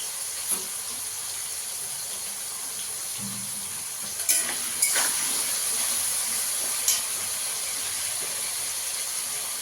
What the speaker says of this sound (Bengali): একটু নুন দিয়ে দেবো। একটু হলুদ দিয়ে আলুটাকে একটু ভেজে নেবো।